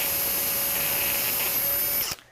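A power drill fitted with a quarter-inch bit bores into polycarbonate, holding a steady, close whine for about two seconds before it cuts off abruptly.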